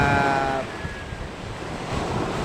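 Strong monsoon wind by the sea in Quezon province roars steadily, buffeting the microphone, with the wash of rough surf blended underneath and a faint tonal whine fading early on.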